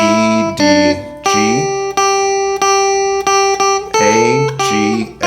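Guitar picks out the fourth line of the Jingle Bells melody as a string of clear, ringing single notes in a steady rhythm, each plucked note sustaining briefly before the next, with no voice over it.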